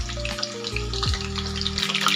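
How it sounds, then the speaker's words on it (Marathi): Eggplant frying in hot oil in a home kitchen, a steady close sizzle and crackle running throughout with a low hum underneath. "आता पूर्ण आपल्याला याच्यामध्ये वांगे तळून होईपर्यंत आपल्याला छान वांगे तळून घ्यायचे आहेत"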